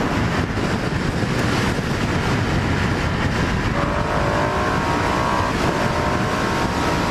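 A 2019 Ducati Diavel 1260 motorcycle accelerates, its engine roar blended with heavy rushing wind noise, steady and loud throughout with a rising whine appearing later.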